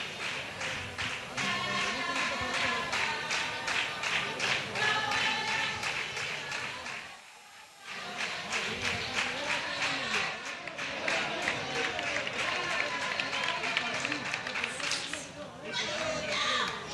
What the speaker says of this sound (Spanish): fuerte aplauso para Bolludo, buena actuación